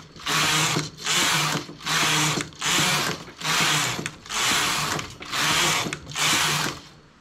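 Carriage of a domestic knitting machine sweeping back and forth across the needle bed, knitting plain stockinette rows in two colours: seven evenly spaced, loud whirring passes with ratcheting clicks, each separated by a brief pause, no voices.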